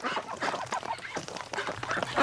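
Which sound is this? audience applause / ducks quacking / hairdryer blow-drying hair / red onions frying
ducks quacking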